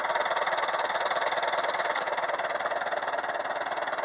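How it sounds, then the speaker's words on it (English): A 1952 Ferguson TO-30 tractor engine idles low and steady nearby, its fast even pulsing firing rhythm running unbroken under a constant fan whir, with a small exhaust leak at the donut gasket. "Low idle."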